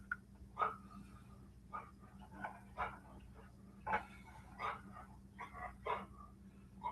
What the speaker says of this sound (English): Can you hear the dog? He's over here, right at my feet.